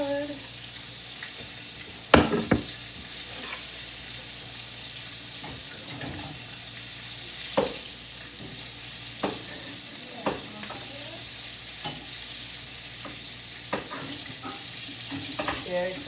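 Zucchini sizzles and fries quietly in a pan, a soft steady crackle broken by occasional sharp clinks and stirring knocks, with little else heard.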